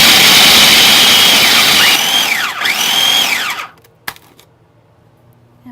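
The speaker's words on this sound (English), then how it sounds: "So the almond's natural oils won't get clumped up in the food processor. And we're just gonna grind it up." A food processor whirs loudly, grinding almonds with sugar, with a high motor whine that rises and wavers as the blades work. It cuts off abruptly into near silence, followed by a single faint clunk.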